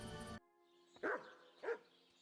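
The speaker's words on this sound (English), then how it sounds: "What's our boy barking about?" A dog in the video game Kingdom Come: Deliverance 2 gives two sharp barks about half a second apart, moderately close, after a brief tonal sound at the start.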